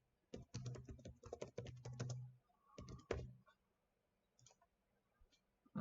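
Quick, close clicking on a computer keyboard in uneven bursts, with a short pause partway through and then a few scattered keystrokes near the end in a quiet room.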